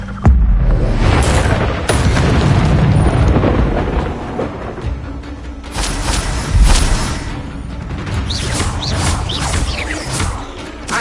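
Fire spell blasts cast in a Hogwarts video game, heard as loud booming, crackling bursts that repeat across the stretch, with a heavy low rumble, sharp high hiss and no speech over them.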